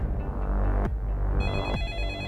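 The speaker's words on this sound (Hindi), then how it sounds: "फोन उठा लो।" A telephone rings at a police station over a steady background hum, a repeated electronic ringtone with a couple of sharp clicks.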